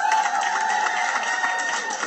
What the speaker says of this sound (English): let me hear you make some noise